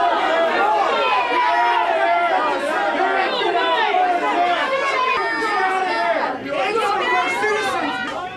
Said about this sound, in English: it turned into a shout fest with a packed auditorium voicing its outrage over the handling of this case